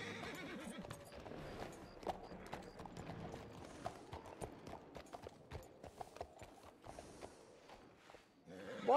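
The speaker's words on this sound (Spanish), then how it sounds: "Se ha convertido en un caballo." Horse sounds in the El Rancho RP video game, rhythmic hoof clip-clops over ground with a neighing whinny, moderately close with faint voices in the background.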